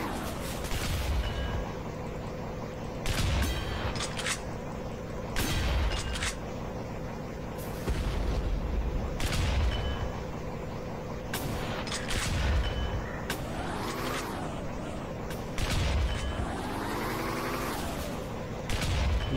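Video game gunfire and explosions repeat in heavy bursts at fairly regular intervals, with loud booming blasts and rattling shots layered over a constant dense battle din.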